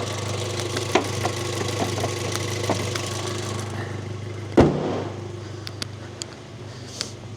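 A warmed-up Volkswagen Scirocco R engine with a Miltek exhaust idles steadily, a low, even burble close by with a faint ticking, broken by one brief knock near the middle.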